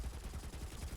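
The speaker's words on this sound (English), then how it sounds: "He's got 3 different magazines that are firing right now." Rapid continuous gunfire from a video game character's three rotating magazines firing at once, a dense, loud burst of overlapping shots with no pauses.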